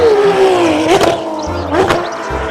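A toy-video racing car engine revs loudly and close, its pitch rising and falling with two sharp swells and whooshes, and no voices over it.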